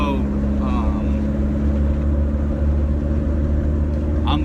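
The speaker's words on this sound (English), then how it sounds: "I think I have like an exhaust leak." A turbo-swapped 240 car engine with an exhaust leak where the headers meet the turbo, running at a steady, loud, rumbling idle throughout, with some faint talk.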